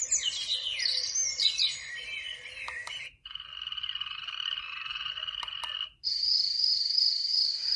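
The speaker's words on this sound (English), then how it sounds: "And then you have like nature sounds," A portable white noise sound machine plays nature animal sounds: three looped segments of croaking frogs, chirping birds and insect-like trills, each clear and fairly loud, with short gaps between them.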